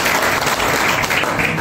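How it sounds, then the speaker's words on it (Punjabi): Dense, sustained applause from an audience at a college NSS camp event at Fateh Group of Institutions, Rampura, steady and loud throughout with no pauses. "ਸਾਰੀ ਟੀਮ ਲਈ ਇੱਕ ਵਾਰੀ ਜ਼ੋਰਦਾਰ ਤਾੜੀ ਲਾਓ।"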